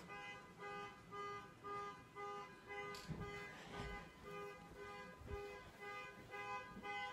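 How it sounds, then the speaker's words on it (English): A car horn or alarm sounds in a repeating pattern of short toots with brief gaps, moderately faint and steady, with some handling noise in between. "her horn is honking."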